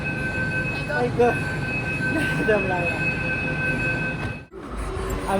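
A metro train in Pune rumbles steadily with a high electric whine and wheel squeal, and people talk briefly over the noise.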